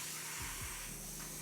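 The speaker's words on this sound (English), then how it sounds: "so I'm just gonna spray some rinseless" Rinseless car wash sprayed onto bug-spattered car glass, a steady airy hiss running the whole time with a couple of short low thumps early on.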